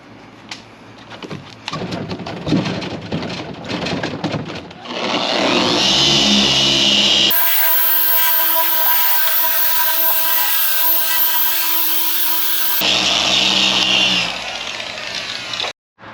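Dual action polisher running a Lake Country blue pad with Angel Wax Regenerate over car paint, a steady loud whirring drone that holds throughout with a higher-pitched stretch in the middle, no voices.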